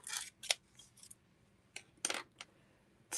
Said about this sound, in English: when you're doing small cuts, use a small pair of scissors.